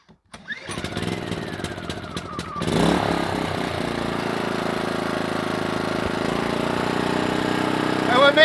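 A MaxPeedingrods MXR3500 inverter generator cranks and starts, then settles into a steady, close, loud running drone that continues to the end.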